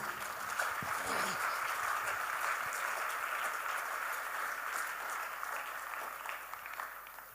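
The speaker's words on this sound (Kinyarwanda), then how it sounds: "Dukomere Yesu amashyi" Church congregation at a youth week service claps in a dense, sustained, fairly quiet roll of applause that gradually tapers off, with speaking mixed in.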